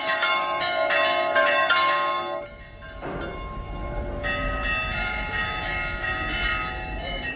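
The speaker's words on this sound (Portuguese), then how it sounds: "O toque dos sinos" Church bells peal at a local Orthodox church in Cyprus for a major Christian feast, clear and ringing in overlapping strokes, briefly dipping midway before resuming steadily to the end.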